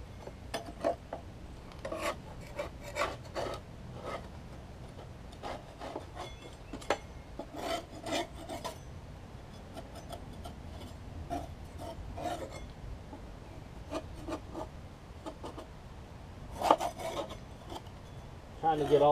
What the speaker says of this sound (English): We're just going to take and scrape the deck off.